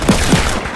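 Rapid Fortnite gunfire fills a short burst, with two loud, close volleys of shots in quick succession against a dense game background.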